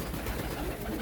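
Pigeons cooing indoors near a window, a brief soft, low murmuring coo heard close with no talk.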